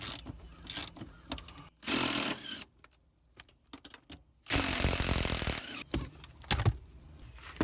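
An E12 socket ratchets and whirs on car seat bolts in a crashed Rover, coming in bursts of close mechanical clicking and grinding with quiet pauses between. No one speaks.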